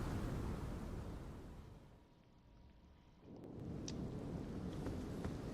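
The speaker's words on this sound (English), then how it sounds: "It's not just raining. It's raining cats and dogs." Heavy rain and a thunderstorm in the video game Elden Ring: a loud, continuous roar of downpour with rumbling thunder that eases briefly in the middle before swelling back.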